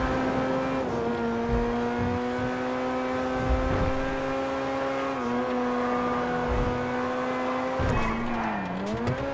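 A car in GTA V drives and revs with a steady engine drone that climbs and dips through gear changes, with a brief tire skid near the end and no talk.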